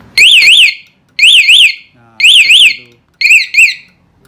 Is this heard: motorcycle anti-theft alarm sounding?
yes